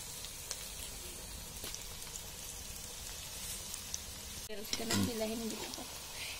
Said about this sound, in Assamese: এতিয়া এইখিনিও তেতিয়ালৈকে ভাজি ল'ম যেতিয়ালৈকে ইয়াৰ আদা নহৰু কেঁচা গোন্ধটো ইয়াৰ পৰা গুচি নাযায়